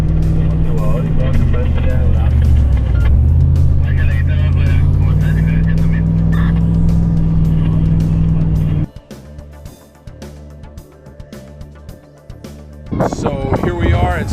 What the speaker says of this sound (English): first truck just coming through